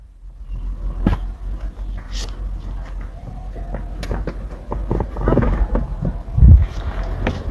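A car engine rumbles steadily with road noise and wind, swelling louder near the end as it revs or passes close by.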